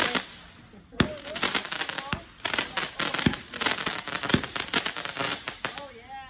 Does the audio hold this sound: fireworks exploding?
yes